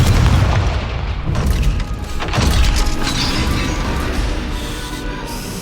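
A Confringo fire spell blasts against a gate in the video game Hogwarts Legacy, one loud booming explosion followed by crashing, crumbling debris and a lingering roar.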